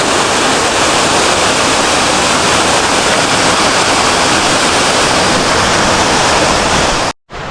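A waterfall on a Poconos mountain hiking trail roars close and loud, a dense, unbroken rush of falling water that fills the whole scene with no voices.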